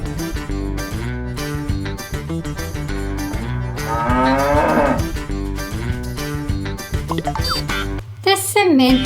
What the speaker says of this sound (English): The Simmental cow.